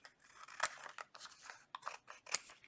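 Scissors trim paper pages for a handmade no-sew journal, making a series of crisp close snips with two sharper, louder cuts standing out, with no talking.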